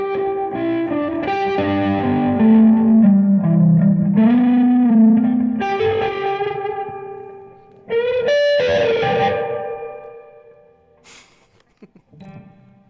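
Electric guitar played through an Earthquaker Devices reverb pedal: sustained notes and chords swell into long, washy reverb tails, break off briefly near the middle, then return loudly before fading to a quiet decay.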